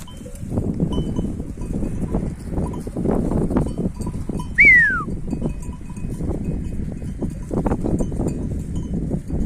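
Grazing sheep bleat and call throughout among dense rustling and movement in a snowy mountain village, with a clanking bell-like clink nearby and a brief high squeal partway through.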